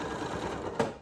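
A Janome Memory Craft MC9450 sewing machine stitches a fabric face mask with elastic, giving a brief, steady close whir of the running motor and needle.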